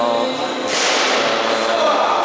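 One sharp crack of a rifle shot rings out at some distance on a biathlon range at a Ukrainian championship, followed by a steady wash of outdoor noise.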